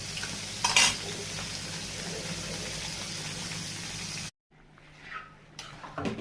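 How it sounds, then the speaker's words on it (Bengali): Fish fry in a pan, a steady close sizzle with occasional utensil clinks, cutting out abruptly and returning as a quieter, fainter crackle. "আসলে এই মাছগুলো ভেজে নিচ্ছি।"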